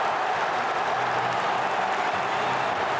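A sellout stadium crowd at the Swansea.com Stadium roaring after a Swansea City goal against Manchester City, a dense, sustained wall of cheering and applause at steady high level throughout.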